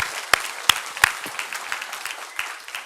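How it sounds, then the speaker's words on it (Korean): A church congregation at a Sunday morning service gives a short round of applause: three sharp claps stand out early, then lighter scattered clapping trails off, with faint voices in the background. "우리 박수 한번 합시다."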